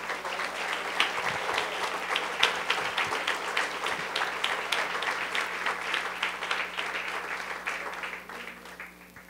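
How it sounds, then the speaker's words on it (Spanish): Church congregation breaks into strong applause for the Lord, many hands clapping in a dense, lively wash with sharp individual claps standing out, lasting several seconds before starting to taper off near the end. "déle un fuerte aplauso al Señor"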